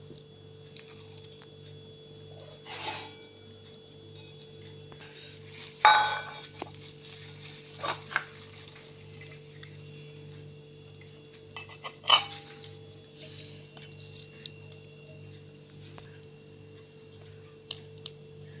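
Sago mash is served onto a plate, with scattered metal spoon clinks and dish knocks at close range, a few louder clanks standing out over a low steady background hum.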